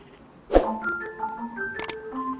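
An incoming-call ringtone from an Android voice and video calling app, heard as a short melodic electronic pattern of repeated tones after a brief tap.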